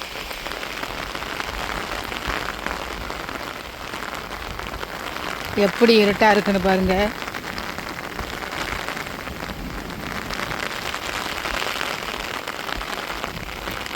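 Heavy rain lashes down with wind in a village, a dense, unbroken roar of drops on surfaces that stays close and steady throughout, while a voice speaks briefly near the middle.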